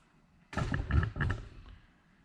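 A spring-closure door about three and a half feet wide on an expedition vehicle build swings and bangs shut, giving a couple of close, heavy thuds and rattles, then quiet, with no talking.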